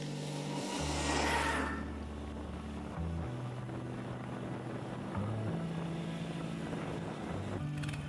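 An electric motorized dog sled, converted from a motor-driven sled, hums and whines as it drives, its pitch stepping up and down with changes in speed. A whooshing pass comes early, over steady wind and rumble.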